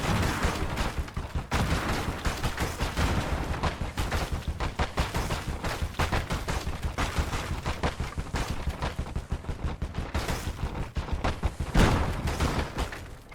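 Gunfire rattles through a Call to Arms Gates of Hell Ostfront match, a dense, continuous fusillade of rapid shots and bursts with sharp cracks layered over one another, loud and sustained.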